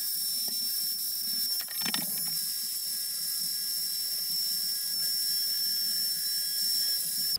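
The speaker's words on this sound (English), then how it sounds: "So this is a brass rotary brush with an RPM adjustable angle grinder." Brass rotary brush spinning on a speed-adjustable angle grinder while cleaning carbon off a Land Rover Discovery 3 engine part, a steady high whine with a brief rougher scrubbing burst near the start.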